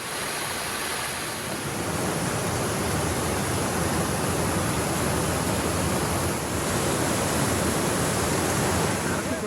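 Water rushes steadily over the Narasipuram multi-step dam waterfall near Coimbatore, a loud, unbroken roar of broadband noise that stays constant throughout.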